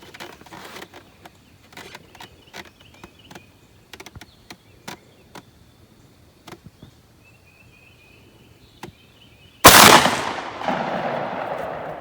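A 10 gauge shotgun fires a single 2 7/8-inch sabot slug over a chronograph outdoors. A loud, sharp blast with a long rolling tail comes near the end, after a stretch of quiet clicks and handling noises.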